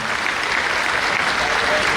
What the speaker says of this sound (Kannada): ಬಂತು ಜೋರಾಗಿ ಚಪ್ಪಾಳೆ ಕಟ್ಟಿ ಈ ಮಹಾನುಭಾವರು